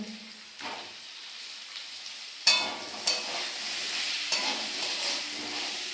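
Tomato and cumin powder go into a frying pan of potato and pointed gourd curry, and a soft steady sizzle of frying runs throughout, with sharper hissing bursts as the food lands and is stirred.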